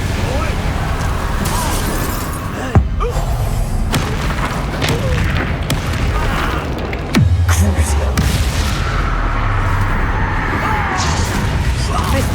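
Confringo fire spell explosions in the Hogwarts Legacy wizarding game, heavy booming blasts with crashing debris over a dense battle din, loud and near, mixed with shouted voices.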